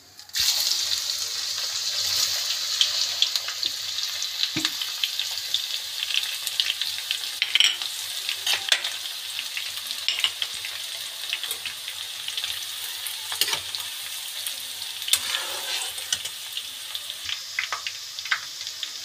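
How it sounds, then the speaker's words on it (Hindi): Garlic fries in hot oil with a loud, continuous crackling sizzle close by, broken by scattered pops and stirring over about twenty seconds. "तेल को करेंगे गरम, फिर डालेंगे इसके अंदर लहसुन,"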